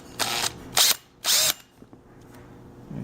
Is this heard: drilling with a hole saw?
yes